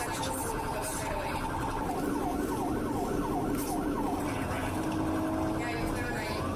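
An ambulance siren wails continuously with rising and falling sweeps while riding near a police vehicle clearing intersections, loud and steady over road noise, with voices talking intermittently.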